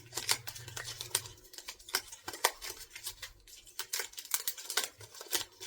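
Game cards being shuffled by hand at a tabletop board game, a series of quiet crisp riffling bursts and flicks in an irregular rhythm, close and soft with a faint low hum early on and no talking.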